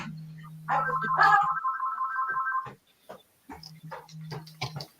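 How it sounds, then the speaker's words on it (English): An electronic phone ringtone warbles loudly, then a second, lower tone repeats with clicks and taps close by. "Phones are ringing everywhere."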